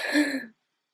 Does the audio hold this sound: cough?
yes